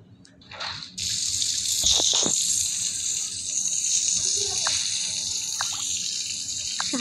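Water runs steadily from a tap during a bath, a loud continuous gush close by with a few splashes and clinks over it.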